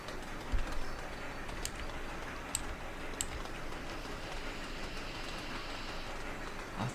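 Coal train running in the Sweet Transit railway video game, a steady low rolling rumble with faint clacks and a few brief bird-like chirps over it, continuous at moderate level with no talking.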